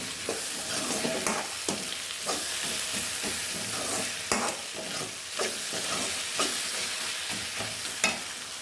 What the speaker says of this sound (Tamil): வேகட்டும் பாருங்கள் நல்லா வதங்கி வருது